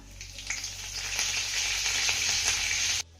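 Mustard seeds, cumin and curry leaves sizzling in hot oil, a steady bright crackling fry with small pops, close and loud for about three seconds before cutting off abruptly.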